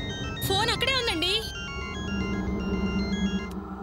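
A mobile phone rings nearby with a repeating electronic melody, starting loud with warbling tones and continuing as a steady tune under a low background hum.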